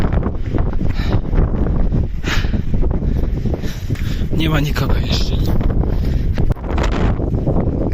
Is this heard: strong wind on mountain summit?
yes